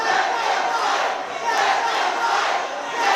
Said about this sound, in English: The crowd chanting for 5 more minutes will let them fight.